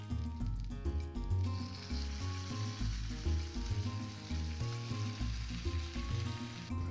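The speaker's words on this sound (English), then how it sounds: "Let's flip the bacon." Bacon strips sizzle in a pan, a moderate crackling hiss with clatter and low thumps as the pieces are flipped, no voices over it.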